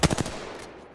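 Automatic gunfire from Apex Legends, a fast rattling burst of several shots at the start that quickly trails off into a fading echo.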